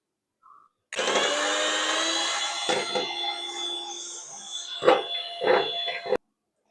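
An electric beater whips eggs with powdered sugar for a vanilla sponge cake, its motor starting abruptly and whining steadily up close for several seconds, with a few knocking bumps against the bowl before it cuts off.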